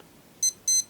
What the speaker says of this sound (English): So in 5 seconds we should have the alarm come back on.